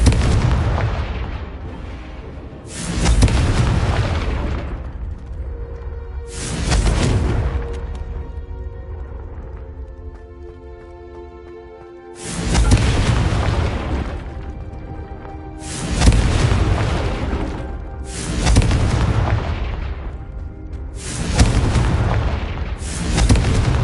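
Repeated blasting curse explosions from Hogwarts Legacy boom out one after another, about seven loud bursts with rumbling decay between them and a quieter musical stretch in the middle.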